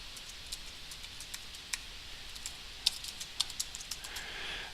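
Quick, light clicks of typing on a computer keyboard come in an uneven patter of soft keystrokes with a few sharper taps, close but faint over a steady background hiss.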